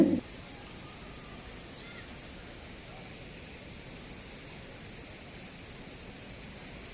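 Thalayanai waterfall at Kalakad, Tirunelveli, pours as a steady, broadband roar that stays even and constant throughout, with no voices over it.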